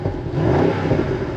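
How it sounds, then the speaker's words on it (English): A 2021 BMW M550i xDrive twin-turbo V8 in sport mode rumbles and revs steadily up close, with a deep, throaty exhaust note and no voices. "Let's go ahead and hear a little bit of this V8."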